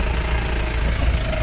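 A motorbike engine runs steadily during off-road riding on a jungle trail in Thekkady, Kerala, giving a continuous low rumble with an even, unbroken drone throughout.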